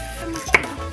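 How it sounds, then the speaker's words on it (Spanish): A knife makes a single clear chop on a cutting board while serrano chiles are cut for a fish broth, with faint kitchen background around it. "aquí estamos picando lo que le vamos a echar a lo que es el caldo. Estamos echando unos chiles serranitos"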